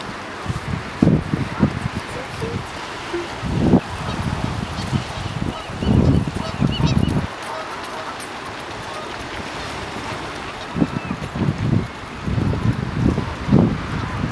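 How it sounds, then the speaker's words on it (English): A goose honks repeatedly near a harbor, in loud bursts separated by short pauses, with some wind and rustling underneath. "Hey Goose, get out of the picture."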